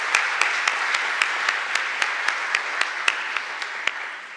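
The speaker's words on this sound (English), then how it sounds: "So let's give them a round of applause in absentia." A small audience at a Department of Justice veterans appreciation ceremony claps, each clap sharp and distinct in a fairly even rhythm over a soft wash of room noise.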